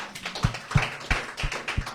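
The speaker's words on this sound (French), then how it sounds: "Applaudissons le Seigneur." Congregation applauding the Lord in a church service, with rhythmic, evenly spaced claps about every third of a second, moderately loud and close.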